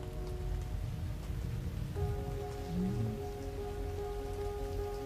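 Steady rain falls outdoors in a continuous, even hiss of drops striking surfaces, with a faint low tonal hum underneath.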